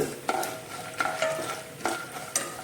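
Peanuts frying in oil over a low flame, a steady soft sizzle broken by a few sharp scraping stirs at regular intervals, close and moderately quiet with no talking.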